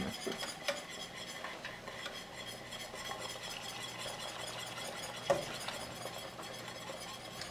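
Slow, steady whisking of cheese into a creamy Alfredo sauce for chicken and broccoli, a soft continuous stirring scrape with light metal ticks against the pan and one sharper clink near the end, no voices.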